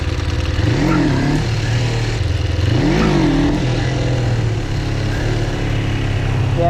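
Engine revving to high RPM, loud and close, with two rising-and-falling rev surges over a constant rough idle drone.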